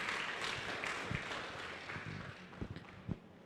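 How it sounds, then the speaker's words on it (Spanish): A congregation claps for the Lord at an evening church service, a steady wash of applause held at a moderate level, with a few sharper claps standing out near the end and no clear talking. "Fuerte aplauso al Señor"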